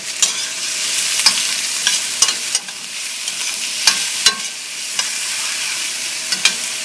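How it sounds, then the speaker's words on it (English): Vegetables sauté in a pan over medium heat, a continuous bright sizzle broken by repeated sharp scrapes and clicks of stirring, close and loud, with no voices. "We're going to let that stir just until it gets tender."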